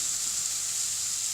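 Caribbean chicken sizzles in a frying pan just after being turned, a loud, even, close hiss of frying that holds steady throughout with no voices.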